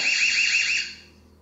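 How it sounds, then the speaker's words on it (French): A loud electronic alarm siren from an EZVIZ BC1C outdoor wireless security camera warbles rapidly in a high pitch for under a second, then cuts off and fades, with no talking. "l'alarme crie un petit peu plus fort que ce qu'on a vu sur les autres modèles"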